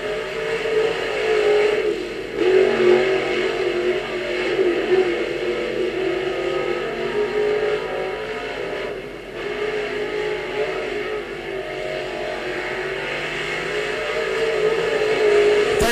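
A race car runs a timed lap at a racing event, its engine a loud, sustained roar that holds steady for the whole stretch, with slight swells and dips as the car moves along the track.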